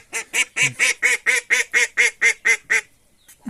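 A duck quacks loudly and close in a steady rapid series of about eleven calls during a scuffle over a duckling in a farmyard, then stops, followed by a faint short call.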